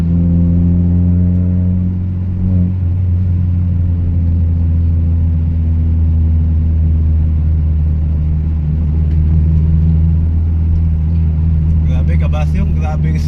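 A big-bodied car cruises smoothly through midday traffic after a tune-up, a steady deep engine rumble and road drone filling the cabin, continuous and loud, with a little faint clatter near the end.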